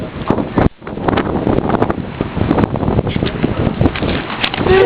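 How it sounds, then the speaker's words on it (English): Strong, gusty wind buffets the microphone outdoors, a continuous loud rumbling roar that barely lets up, with faint voices underneath. "It really is kind of windy"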